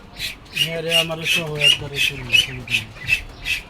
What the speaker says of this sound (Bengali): এখন একটা হাঁস আনলাম